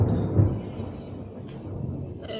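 Low, rolling thunder rumbles far off, a broad deep roar that swells early and slowly fades, with a couple of faint crackles later and no voices.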